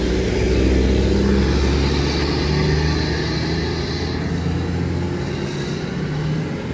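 A Mahardika intercity bus pulls out of the Wonogiri bus terminal, its engine rumbling steadily and revving up as it departs. The sound is loud and sustained, with no voices.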